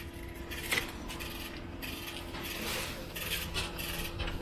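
Metallic clunks and ratcheting clicks as a caravan stabilizer leg on an Adria Adora 542UL is lowered and locked, a few distinct knocks over steady background noise.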